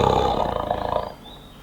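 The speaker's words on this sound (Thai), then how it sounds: "แจ๋วอเสียงเสือ" A deep, loud recorded tiger roar, played from Google's animal sounds feature, rumbles for about a second before fading away into quiet.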